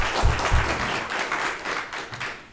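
Applause from an audience at an event, a dense steady patter of clapping with a couple of heavier low thumps near the start, fading slightly toward the end.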